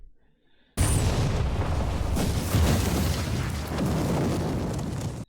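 Grenade explosions in a war movie: after a brief quiet start, a sudden loud blast erupts into a sustained, rumbling roar of booms and debris that carries on for several seconds at full strength, with no voices.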